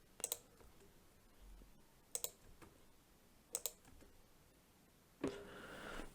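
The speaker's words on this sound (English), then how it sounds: "click the delete button on my keyboard" A few quiet, isolated key clicks spaced out over several seconds, with a brief louder rustle near the end.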